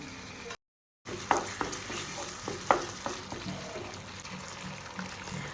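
A ground spice paste fries in hot oil while it is stirred, giving a continuous sizzle. Sharp scrapes and taps from the stirring break through it, after a brief silent gap near the start. No one speaks.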